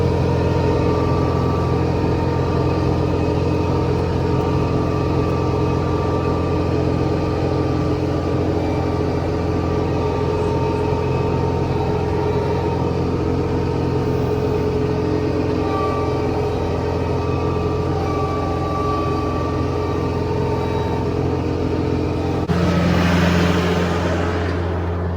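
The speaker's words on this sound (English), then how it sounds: "They said test the tractor." A tractor engine runs steadily, a loud, close mechanical drone with a constant low hum, while the machine rolls in neutral; near the end a brief burst of broadband noise rises over the engine.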